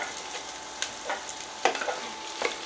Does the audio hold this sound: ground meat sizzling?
yes